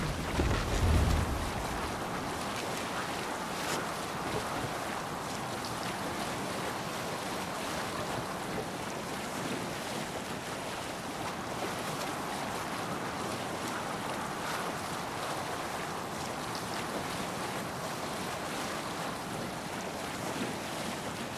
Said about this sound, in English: Man your oars! Sail! Catch the wind!